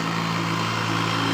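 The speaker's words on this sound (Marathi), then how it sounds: "ट्रॅक्टर आलेला आहे." A tractor engine runs on a road leading toward a camp, giving a steady, close mechanical drone with an even rumble and no breaks or voices.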